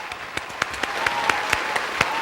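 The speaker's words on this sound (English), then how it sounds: "let's make sure we go ahead and clap her out" A studio audience claps for a jewelry-business guest on a talk show, giving a steady run of hand claps with distinct sharp slaps, moderately loud and without speech.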